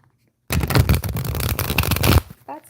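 A close, loud riffle of tarot cards runs for nearly two seconds after a moment of silence, a dense papery crackle ending in a soft tap, with no talking over it.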